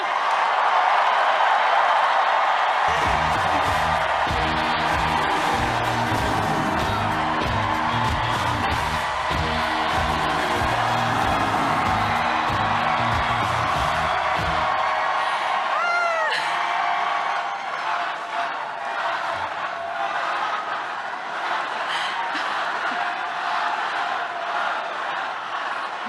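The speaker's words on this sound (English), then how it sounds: "join me in giving her the longest and loudest round of applause" Large crowd at an election-night victory rally for the winning New York City mayoral candidate, roaring with applause, whoops and cheers, a loud rhythmic chant in the first half, then continuing cheering and clapping.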